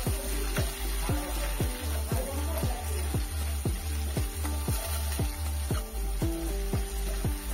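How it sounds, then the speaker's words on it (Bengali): Green chillies fry in hot oil for a Bengali koi fish curry, giving a steady close sizzle that runs the whole time beneath a regular rhythmic musical beat. "ঠিক একই রকম ভাবে 10 থেকে 15 সেকেন্ডের মতন আমি লঙ্কাটা ভেজে নিয়েছি"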